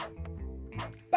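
A small dog yips and barks in the video game The Capybarrier, a few short close barks over a soft game backdrop.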